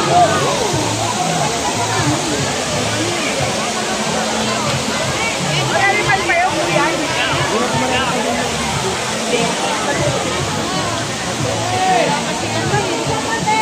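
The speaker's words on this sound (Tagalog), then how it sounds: "So ito ang Daranac Falls." Daranak Falls pours in a steady, loud wash of rushing water on a busy summer day, with a crowd's chatter and voices mixed into the constant roar throughout.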